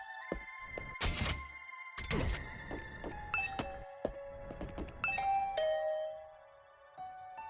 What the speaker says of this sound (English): I could hear the bell ring on the other side of the door.